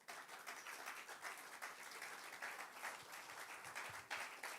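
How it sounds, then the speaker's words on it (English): An audience claps in a dense, continuous patter of many hands that holds steady for a few seconds, quiet and somewhat distant. "Please give a warm, resounding applause to Dr. Akinpelu."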